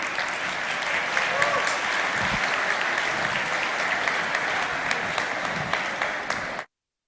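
A crowd applauds at the opening ceremony of the WRO International Final 2022, dense sustained clapping that holds steady, then cuts off abruptly near the end, with some voices mixed in.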